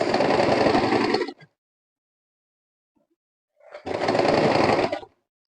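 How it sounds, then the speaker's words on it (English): A sewing machine stitches organdy fabric along drawn lines, running in two close, loud bursts of steady whirring separated by a few seconds of silence. "bring down my footer and sew. I'll follow the lines."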